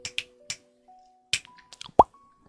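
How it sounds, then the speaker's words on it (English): Several sharp finger snaps made at a distance from a sensitive microphone, with crisp isolated clicks spaced irregularly, a few soft pops and a faint sustained tone running underneath. "And my finger snaps are quite loud as well."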